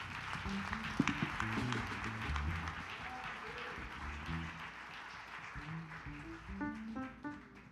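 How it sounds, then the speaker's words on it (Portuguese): A church congregation applauds during a celebration service, a steady wash of clapping blended with music and some voices, with a few louder claps standing out. "Aplauda o Senhor bem forte"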